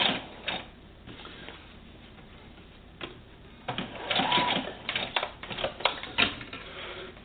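A sewing machine stitching a quilt border with mitered corners, short bursts of rapid mechanical whirring and clatter, close up, growing busier and more continuous toward the end.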